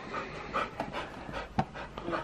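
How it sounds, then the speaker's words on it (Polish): A dog pants rapidly and close by, with quick rhythmic breaths and faint rustling, during a Christmas present unwrapping indoors. "gwałtownie atakowana przez psa"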